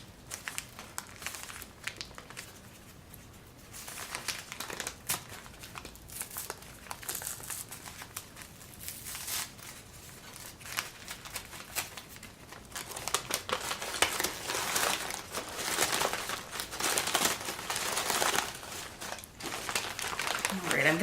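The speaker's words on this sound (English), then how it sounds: "So you are seeing me open my first high-quality pu-erh cake live on camera." Paper wrapper being peeled off a raw pu-erh tea cake: continuous close crinkling and crackling rustle, growing louder and denser in the second half, with no talk over it.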